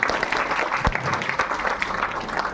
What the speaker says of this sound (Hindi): सो आपके लिए एक बार जोरदार तालियां